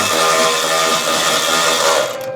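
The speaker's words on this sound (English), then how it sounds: "a wrench for this side and the ratchet for the back side and get that snugged up now" A ratchet and wrench snug up the bolts of a Wolfe Ridge umbrella mount fitted to a VS-series machine, giving a steady mechanical whir with rapid clicking that runs loud and close, then eases off at the very end.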